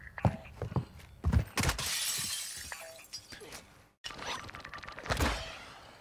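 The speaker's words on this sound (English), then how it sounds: "He did hear the glass break, obviously." Glass shatters in a first-person shooter game amid clattering, thuds and creaks, a sharp bright crash followed by scattered tinkling and a second burst after a brief cutout, moderately faint.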